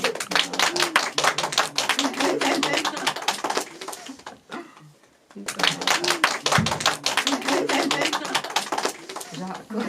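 An audience applauds during a gathering about traditional Hutsul clothing, with dense, fast, close clapping in two strong bursts split by a brief lull; voices are heard alongside.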